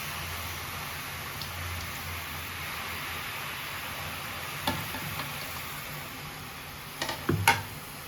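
Sorrel leaves (gongura) sautéing in a pan, a faint, even hiss of frying throughout with a few sharp scrapes and clatters of a spoon near the end, no one speaking.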